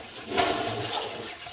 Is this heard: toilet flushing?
yes